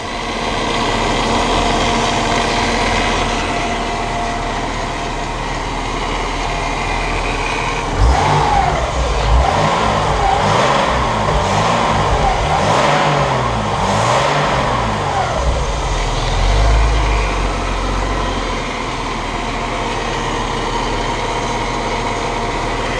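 Chevrolet Omega CD 4.1 running after cooling-system service, a steady idle that rises into several revs in the middle before settling back to idle, loud and close with no talking.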